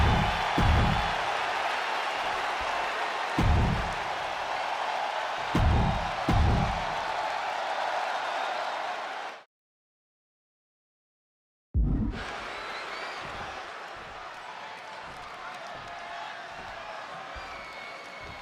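A Chicago arena crowd in the WWE 2K26 wrestling game roars continuously, a loud, wide wall of cheering with a few heavy thuds, cutting to silence for a couple of seconds before resuming.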